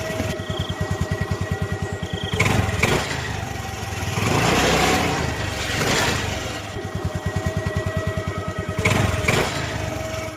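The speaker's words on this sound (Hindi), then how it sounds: "बाइक चलाता हुआ जंगल के रास्ते अपने घर जाने लगता है" A motorcycle rides along a forest road, its engine a steady buzzing putter close by that rises into louder revving surges several times, with no voices.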